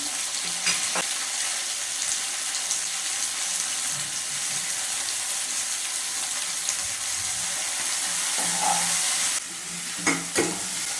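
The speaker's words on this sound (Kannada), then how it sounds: "ಇವಾಗ ಕರಿಬೇವನ್ನು ಹಾಕ್ತಾ ಇದ್ದೇನೆ" Curry leaves fry in hot oil in a pan alongside browned onion, giving a steady close sizzle with a few sharper spits and stirring clatters; no voices.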